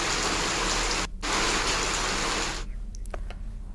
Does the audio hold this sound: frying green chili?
no